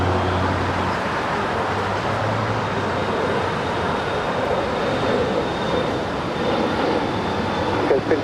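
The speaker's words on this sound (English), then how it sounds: "Alaska SkyWest Flight 3362 heading to Las Vegas. It's an Embraer E175LR is the next departure." Alaska SkyWest Embraer E175LR jet bound for Las Vegas departing LAX, a steady broadband engine roar from a distance, with a faint whine running through it.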